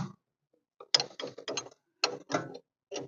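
Loosening steering parts on a 1956 Ford milk truck produces sharp ratcheting clicks in short uneven bursts, close and crisp with brief silences between.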